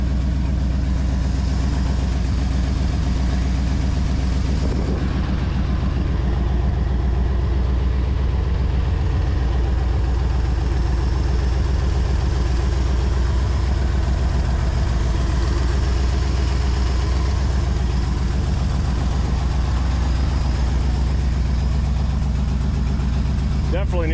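A 1969 Ford Galaxie XL convertible idles roughly with a vacuum leak and poor exhaust, a steady, loud, low rumble close by that stays constant throughout, with someone talking over it at times.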